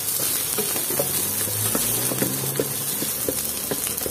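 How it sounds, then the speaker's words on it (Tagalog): Onions sizzle steadily as they are sautéed in a hot pan for squid cooked in coconut milk, with a constant frying hiss broken by light scrapes and stirring taps throughout. "Gisa-gisa habang para maluto"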